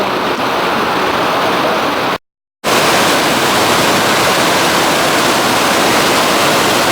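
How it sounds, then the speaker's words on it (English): A lively stream along the Appalachian Trail in Maine's wilderness rushes in a steady, loud, broadband wash, cut by one brief total dropout partway through before the flow resumes unchanged. "Following this beautiful stream."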